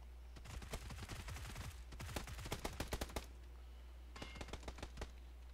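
Full-auto rifle bursts in PUBG: two long rattling strings of rapid shots followed by a shorter burst, crisp and fairly close, steady mechanical rhythm with quiet gaps between, no talk.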